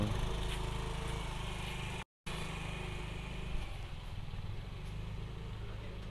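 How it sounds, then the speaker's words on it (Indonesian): A Toyota Vios engine idles at close range, a steady even mechanical hum with a low throb, cut by a brief dropout partway through, then running on unchanged. "cek suara mesinnya"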